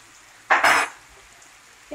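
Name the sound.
stirring carrots caramelizing with sugar in a pan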